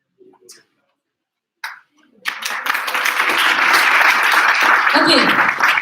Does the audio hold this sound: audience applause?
yes